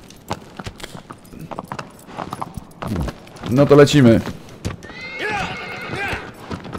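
Agro, the horse in Shadow of the Colossus, moves along with steady hoof clops and lets out a loud whinny partway through, while someone talks over the sound.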